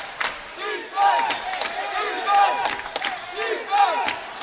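Crowd at a 2020 Skyline Conference semifinal college basketball game between YU Maccabees and Farmingdale State cheers and shouts in waves, loud and dense with sharp whistles and yells rising and falling throughout.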